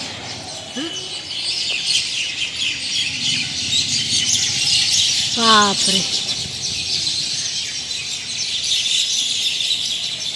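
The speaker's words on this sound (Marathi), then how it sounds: "ते पक्षी किती चिमणे आहेत का काय झालो चिमण्यात आहेत ना लय आवाज येतोय" A dense chorus of many sparrows chirps nonstop at dusk at a moderate distance. A person speaks briefly over the bright, busy twittering.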